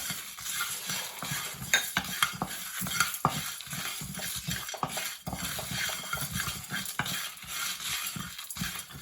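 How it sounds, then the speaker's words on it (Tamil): Red chillies frying in a pan for a chicken curry, with constant crackling sizzle and repeated scraping clinks of a spoon stirring against the metal, close and steady throughout. "நல்லா ப்ரௌன் கலர் ஆகிற வரையும் நல்லா வறுத்து எடுத்துக்குவோம்."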